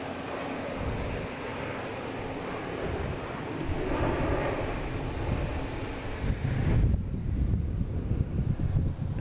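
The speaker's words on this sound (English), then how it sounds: "we have a United coming in from Chicago, 737-800" A United Boeing 737-800 airliner arriving from Chicago rumbles at a distance, a broad, low engine roar mixed with wind buffeting on the microphone that grows a little louder and rougher toward the end.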